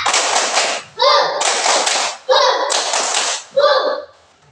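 Children in a classroom perform a rhythmic clapping chant, grouped bursts of claps alternating with short spoken chant phrases, close and loud, ending in quiet.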